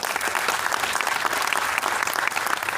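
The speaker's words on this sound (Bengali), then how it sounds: "উঠে দাঁড়ান, ওনাদের জন্য হাততালি দিন।" An audience at a network-marketing seminar claps steadily for guests, dense sustained applause from a large crowd, loud and continuous throughout.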